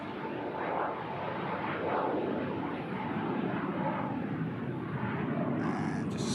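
An airliner climbing away after takeoff from Manchester Airport, its gear coming up, gives a steady, broad engine roar that holds even and unbroken for the whole stretch, with no voices over it.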